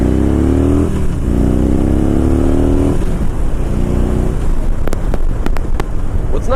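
A Harley-Davidson Dyna Bagger's large V-twin engine revs up hard in first, briefly drops during a shift and pulls again through second, loud and close with some wind buffeting on the microphone toward the end.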